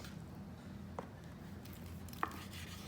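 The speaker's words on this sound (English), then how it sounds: "Knife's just gliding right through because these things are ready." A knife cutting through smoked St. Louis-style pork ribs on a board: quiet, with two soft, brief cutting taps about a second apart over a low background hum.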